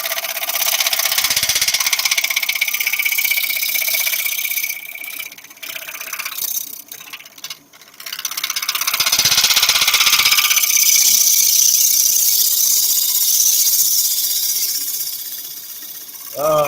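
A wood lathe spins as a turning tool cuts a workpiece and throws off shavings, giving a loud, steady scraping hiss that drops away briefly midway and then returns, heard close up with no talk.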